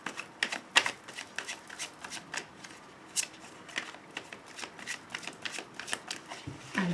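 Tarot cards are shuffled by hand in quick, crisp riffling bursts and soft slaps, close and clear in a quiet room, with a low thump at the very end.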